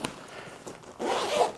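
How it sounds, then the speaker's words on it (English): A zipper pulled closed on an Ariel Rider rear rack bag for an electric bike, heard as one short run followed by a longer, louder zip up close. "Zip this back up, and you're good."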